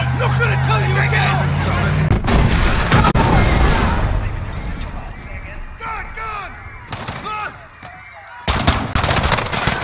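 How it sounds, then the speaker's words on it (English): Gunfire in Call of Duty: Modern Warfare at Piccadilly Circus, with loud rapid bursts of automatic fire and heavy impacts mixed with shouting voices, chaotic and close. "Shots fired, officers down."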